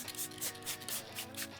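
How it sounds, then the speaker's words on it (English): Rubbing alcohol is sprayed onto a car headlight in several short hissing bursts, close and fairly quiet, with no speech over them. "So we'll just spray it down,"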